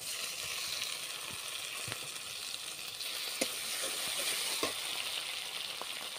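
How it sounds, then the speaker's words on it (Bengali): Chopped tomato tipped into a pan of frying ginger, garlic and onion for a Bengali rohu fish kalia, giving a steady loud hiss of sizzling oil with a few scrapes and stirring taps throughout, close up and without speech. "দেখুন, ওর মধ্যে দিয়ে দিচ্ছি টমেটো কোচানো"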